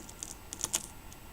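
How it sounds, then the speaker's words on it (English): Scissors cutting across lined-up CAT5 Ethernet cable wires, heard as a few sharp, close snips and clicks clustered together in a quiet room. "I'm going to cut across."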